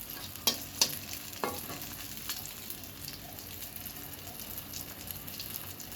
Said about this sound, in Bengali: এই যে আমার হয়ে গেছে বেগুন ভাজাটা কারণ বারবার উল্টে পাল্টে ভাজা লাগবে